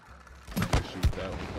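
Shooting in the video game It Takes Two: two or three quick, punchy low shots in a short burst, close and fairly loud over a faint game background.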